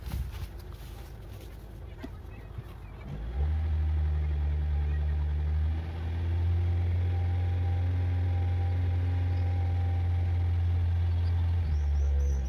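A small engine runs near a mole burrow in a garden, idling quietly and then revving up sharply after about three seconds into a loud, steady, deep drone that holds to the end.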